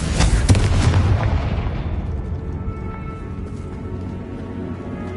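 Confringo spell blast in Hogwarts Legacy, set in a decayed catacomb: a loud, close explosive boom that rumbles and slowly fades away over several seconds, with no talk.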